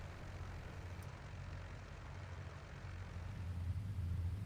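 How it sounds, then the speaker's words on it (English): Twin engines of a Junkers Ju 88 C-6 in a flight simulator at takeoff with maximum RPM, a steady low droning roar that swells slightly toward the end, with no talking. "Alright, so taking off in the Junkers 88, supercharge is going to be left in auto, RPM will be maximum"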